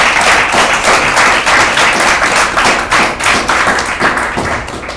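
A church congregation claps in sustained applause praising God, a dense, loud wash of many hands with slight rhythmic swells, filling the room without speech.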